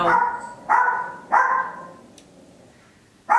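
A dog barks in three loud, close bursts spaced about half a second apart, then a pause and a fourth bark at the end, heard in a home where makeup is being applied.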